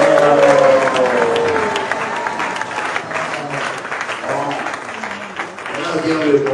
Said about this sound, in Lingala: tout le monde acclame le Seigneur en disant Amen, Amen, Amen